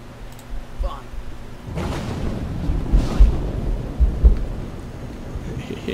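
Low thunder rumbles in and rolls on over a steady wash of rain in Skyrim Special Edition, fairly loud and close.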